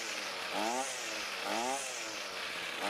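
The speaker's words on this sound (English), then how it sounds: "And then rev it up a few times to make sure that it accelerates smoothly" A two-stroke small engine, freshly carburetor-adjusted, revs up sharply twice, each burst climbing in pitch and falling back to a buzzy idle, close and fairly loud.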